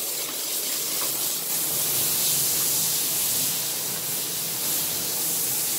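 Steady hiss of water spraying while rinsing a small pet during a bath, continuous and close, running without pause and with no one speaking.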